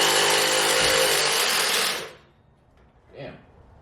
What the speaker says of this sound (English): this is gonna go a lot faster now that we have our drill in action